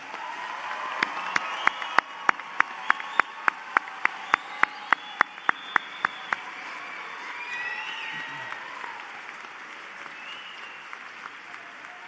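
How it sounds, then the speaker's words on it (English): An audience applauds graduating students at the VCU School of Pharmacy Class of 2022 hooding and diploma ceremony, with steady crowd clapping punctuated by a rapid run of sharp, close, evenly spaced claps that stops halfway, the general applause continuing. "one more big round of applause for our graduating students"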